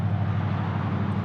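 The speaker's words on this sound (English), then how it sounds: "Saparna taking off on a 747-400" A Boeing 747-400 takes off at Anchorage's Ted Stevens airport, heard as a brief, steady low jet-engine roar with broad rumbling noise, moderately distant and constant throughout.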